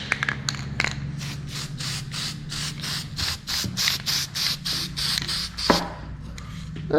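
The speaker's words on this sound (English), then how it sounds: "I gotta spray these bolts." Repeated short hisses of an aerosol spray on the bolts of a 1969 Chevelle in a rapid rhythm, close up, with a low mechanical hum underneath.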